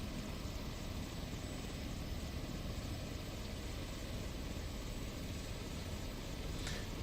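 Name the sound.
Airbus H145 helicopter engines idling, Microsoft Flight Simulator video game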